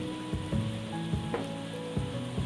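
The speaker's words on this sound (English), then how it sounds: "make sure that we're stirring everything round so that we're taking the temperature of the bulk" Blackcurrant jam bubbles while being stirred, with a low churning boil and a few thick, heavy pops and scrapes of the spoon over a couple of seconds, close by and without speech.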